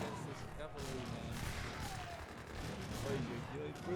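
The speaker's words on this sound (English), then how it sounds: "Protect your cannons, please!" Cannon and gunpowder fire from an Age of Empires 2 battle between cavalry, skirmishers and naginatas, a dense continuous clatter of shots and impacts with commentary-like voice underneath throughout.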